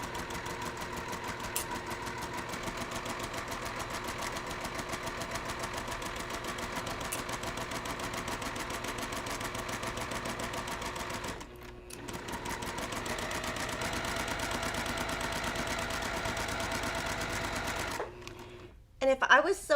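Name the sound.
sewing machine stitching quilt pieces with quarter-inch foot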